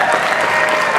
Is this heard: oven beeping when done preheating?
no